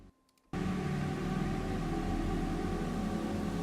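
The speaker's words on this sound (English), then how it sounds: "So I drowned the ending of the song in reverb." The ending of an electronic dance song is washed out in heavy reverb, a dense broadband noisy wash that bursts in abruptly after a brief quiet moment and holds steady and loud to the end.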